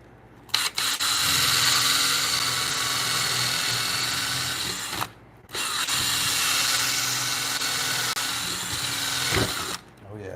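A power drill with a Forstner bit bores a mortise into a timber frame bunk bed post through a knot or resin pocket, grinding steadily and loudly up close with two brief pauses.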